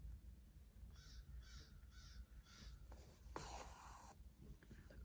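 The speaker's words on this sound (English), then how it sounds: "The crows are squawking, I should say." Crows cawing outdoors in autumn, a run of four evenly spaced harsh calls at moderate distance, followed by a scratchy rustle and quiet background.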